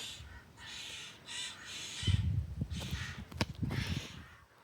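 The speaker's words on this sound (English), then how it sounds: "I don't know if it's crows, but I think I can hear the baby squawking" Several bursts of harsh, raspy squawking from crow chicks in a nest in a slot canyon, repeated in uneven calls at moderate distance, with rustling and scuffing nearby.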